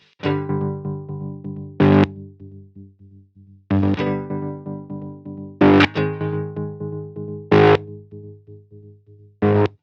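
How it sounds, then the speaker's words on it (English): Electric guitar run through a Sequential Pro 2 synthesizer used as a distortion processor: sustained, harmonically rich chords ring and decay, broken by several short, loud, heavily distorted bursts at irregular points. "let's assign a few bits of distortion to places which sound a bit weird"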